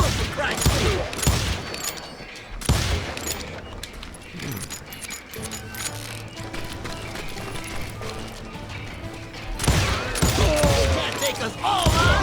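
Gunfire in the Western shooter game Call of Juarez: bursts of loud, close shots in clusters at the start, around three seconds and again near ten seconds, with music and game voices between volleys.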